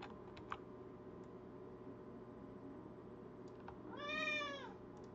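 A house cat lets out a single drawn-out meow near the end, close and clear, after a stretch of quiet room hum with a few soft keyboard clicks.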